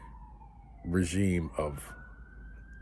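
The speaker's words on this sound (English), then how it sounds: "as the sirens come in, that's perfect timing" Emergency vehicle sirens wail steadily in the distance, their tone sliding and holding throughout, while someone talks briefly over them.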